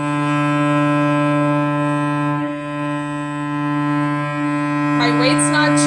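A bowed cello note drawn out to the tip with a flat arm, a steady rich sustained tone that thins and fades as the bow nears the tip, with a brief breathy scrape near the end.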